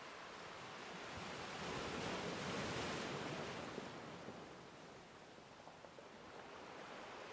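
Sea waves washing onto the shore during a seaside yoga session, a continuous broad rushing surf that swells and recedes, with some wind, no voices.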